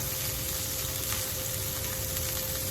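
A rib eye steak sizzles in a hot pan with a constant bright, crackling hiss, steady and close, with no voices.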